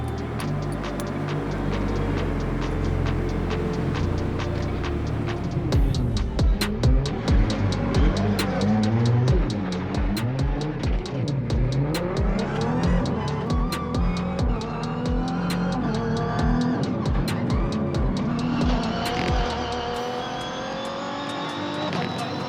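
Off-road racing cars drive close by, with loud engines revving and shifting up and down, and sharp mechanical clicks and rattles over a constant roar that rises toward the end.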